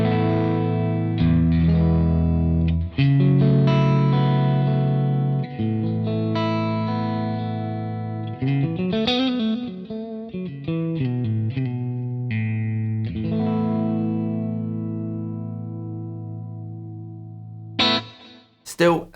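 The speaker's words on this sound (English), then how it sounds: "Now I'm going to move it over to the push setting, because that is definitely more of that sort of Dumble flavour" Electric guitar through a Boss Katana Artist Gen 3 amp on the push setting for a Dumble-flavoured tone: ringing chords and bending lead lines with slight breakup and shimmer, close and sustained, ending with a brief scrape.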